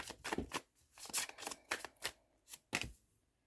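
Tarot cards being shuffled by hand, a quick run of crisp riffling and slapping bursts, close and fairly quiet, with no talking.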